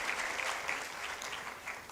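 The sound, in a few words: audience applause at a conference opening ceremony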